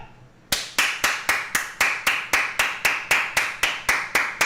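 Sharp, evenly spaced hand claps begin after a brief quiet and repeat about four times a second in a steady, mechanical rhythm, loud and close with no talk over them.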